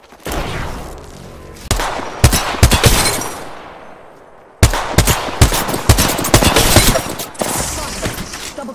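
Automatic gunfire in the battle-royale shooter Apex Legends, loud close bursts of rapid shots separated by brief pauses, with a short lull midway before heavy firing resumes.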